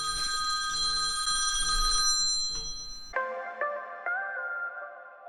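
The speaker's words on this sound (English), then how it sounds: "Had a little phone call there, which is kind of interrupting my process." A telephone rings with a bright, repeating electronic bell tone, loud at first and then continuing quieter and more hollow in a few spaced chimes, with no voices.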